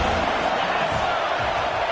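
An Ohio State Buckeye football stadium crowd roars on third down, a loud, steady wall of cheering and whooping from a large audience, with an announcer talking over it.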